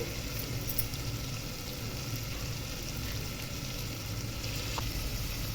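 Green chilli slits tossed into a hot pan for Telugu-style tomato rice, a continuous close sizzle and frying hiss with faint stirring scrapes, no voices.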